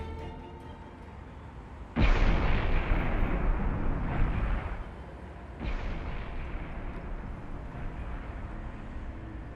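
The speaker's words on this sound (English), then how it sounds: "CCTV cameras captured the ground-shattering explosion of an underground water pipe in Kiev." An underground water pipe explodes in Kiev: a sudden deep blast erupts and roars on as a sustained rumbling burst, followed a few seconds later by a second, lower surge of noise.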